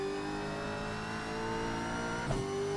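A race car engine in the iRacing sim holds a steady, high revving drone, nearly constant in pitch, with a brief dip and blip near the end, heard alone with no talk.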